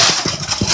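A dog gives a few short, loud barks close by, spaced irregularly, with some low engine-like rumble in the background.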